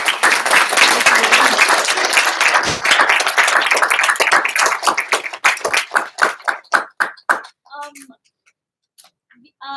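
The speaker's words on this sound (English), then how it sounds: "So give a round of applause." An audience at a live Q&A event gives a dense round of applause that thins into scattered individual claps and fades to near silence, with a few last claps at the end.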